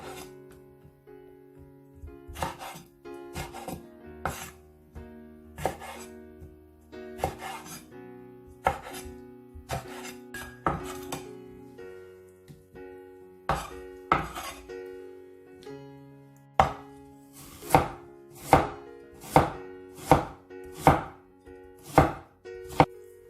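A knife chops pickled mustard greens into pieces sized for braising with pork ribs, a series of sharp board strikes in uneven bursts, growing louder and more regular toward the end, with no talk.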